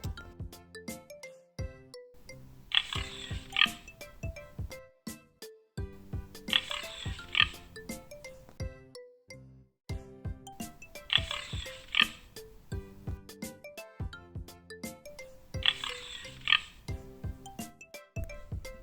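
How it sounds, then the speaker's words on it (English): A pig oinks in short repeated bursts on a farm, roughly every four seconds, over steady bouncy background music for children. "Pig."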